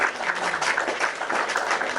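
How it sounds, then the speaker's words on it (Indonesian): Live TV studio audience clapping together in a brief burst of applause, dense and even across the couple of seconds, with a faint voice beneath. "Kita kasih tepuk tangan dulu"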